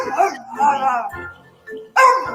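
Small dog in a bath giving high yips and whimpering barks in short bursts, close and loud, with pauses between cries.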